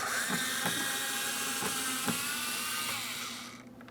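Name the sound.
power tool removing Phillips head screw from car door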